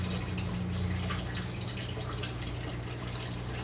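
A towel soaked with softened water wrung out by hand, water streaming and splashing down in a continuous close patter, fairly loud, with no talking.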